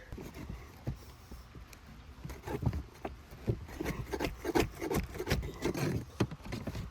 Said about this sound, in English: For now, got the trusty pry bar here, Harbor Freight.